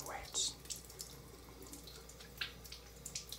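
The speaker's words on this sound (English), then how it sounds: "Some water on the brush." Water from a faucet runs onto a shaving brush at a sink, a low faint trickle with a few brief splashy spurts and drips.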